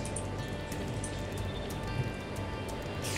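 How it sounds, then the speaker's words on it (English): Rain falls in the video game Minecraft (FTB Unleashed) as a soft, even patter of drops, fairly faint and steady throughout. "And it's raining"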